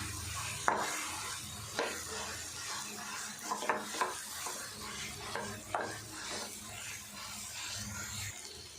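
Banana halwa mixture with country sugar (jaggery-type nattu sakkarai) stirred in a pan, a spatula scraping and knocking in irregular strokes over a steady low sizzle, close and moderately loud with no talking.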